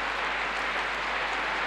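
An arena crowd at an indoor high jump final claps steadily for Spanish jumper Ruth Beitia, a dense, even wash of applause throughout.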